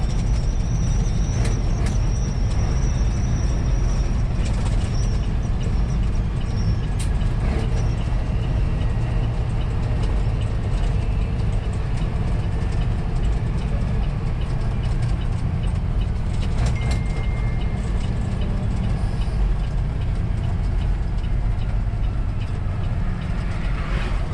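Straight-piped Peterbilt 389 truck engine rumbles steadily from inside the cab while driving, a dense low drone with road noise that holds constant throughout, and no distinct engine-brake bursts stand out.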